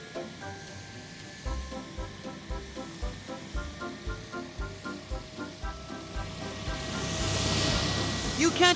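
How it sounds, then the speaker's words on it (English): A cartoon helicopter in a children's toy story gives a rhythmic thumping of rotor beats over a hissy engine drone, swelling louder toward the end. "Where did this helicopter go?"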